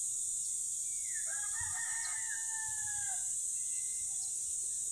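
A rooster crows once at a glamping campsite in Cavinti, Laguna, its call rising and falling over a couple of seconds. It sounds moderately distant and sits against a constant high insect drone, with no talking.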